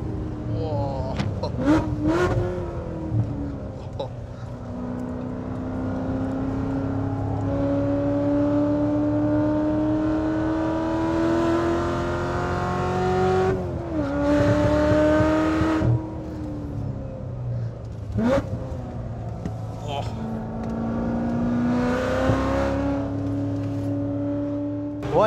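A loud supercar engine revs hard on a dyno and holds high, rising tones in long sustained pulls, dropping briefly between runs, with a steady mechanical roar throughout.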